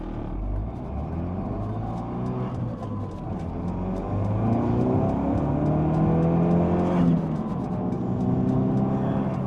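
A Ford Focus RS accelerates hard through a gear, its engine note climbing steadily with a deep, rumbling rev heard from inside the car, with no talking.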